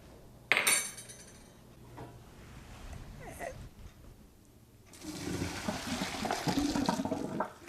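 Salted pasta cooking water being scooped and poured aside before draining: a sharp clink and splash at the start, quieter handling, then a steady broad pouring, running-water rush for the last few seconds.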